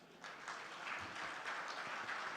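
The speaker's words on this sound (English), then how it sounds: "I think this historic moment calls for a much bigger round of applause" Applause from an audience at a conference hall event marking a historic moment, heard fairly faint and distant, a soft continuous patter of many hands rising slightly after the start and holding steady.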